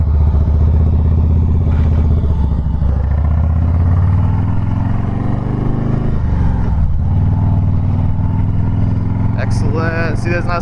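A 2017 Harley-Davidson Softail Deluxe motorcycle rides with a steady, deep engine rumble and wind noise throughout, and a rider talks over it.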